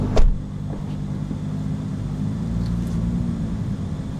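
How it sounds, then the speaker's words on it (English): A 2020 Can-Am Maverick X3 Max X RS Turbo RR side-by-side rumbles along with a low, steady engine drone, opening with a brief thump and staying even and moderately close. "going for a fun drive in a car"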